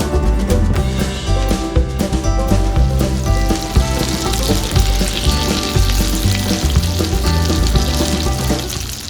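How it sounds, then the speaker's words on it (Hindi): Food frying in oil over low heat gives a dense, continuous sizzle with crackles and pops, loud and close, and it keeps going for the full stretch without any voices. "जब एक तरफ से ब्राउन हो जाएंगे तो इसको पलट के दूसरी तरफ से तल लेंगे।"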